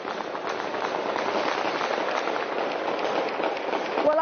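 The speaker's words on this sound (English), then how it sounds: "I'm sure you can hear the sound of gunfire, celebratory gunfire." Rapid crackling bursts of celebratory gunfire pop continuously in the distance in Damascus, Syria, dense and overlapping, with a crowd murmuring underneath.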